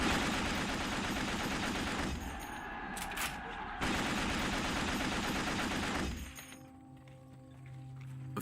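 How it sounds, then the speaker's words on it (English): German machine gun fire in a World War I battle scene, dense and loud bursts of rapid shots that hammer on for several seconds, break briefly, then return before fading into quieter sounds. "General Joffre launches vast offensives that are stopped dead by German machine guns."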